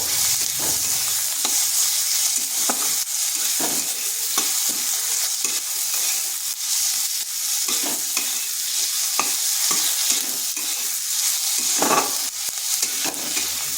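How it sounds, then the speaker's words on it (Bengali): Cumin seeds, garlic cloves and ginger are stir-fried in a pan, with a continuous sizzle under repeated scraping strokes of a spatula that come at an uneven rhythm, close and fairly loud, with no talking. "দিয়ে দিচ্ছি কয়েক দানা রসুন আর 1 ইঞ্চি আদা। এগুলোকেও একটু নেড়ে নেব।"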